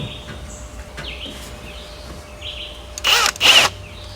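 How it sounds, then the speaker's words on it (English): A power drill bores holes in plastic golf tubes for jon boat rod storage, heard as two short loud bursts near the end, alone and close, after a quieter stretch. "let me go ahead and try to drill these holes out"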